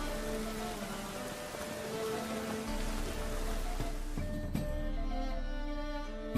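Steady rain falling in The Witcher 3, a dense, even hiss of drops on surfaces that continues throughout with a few louder patters, fairly quiet and without talk.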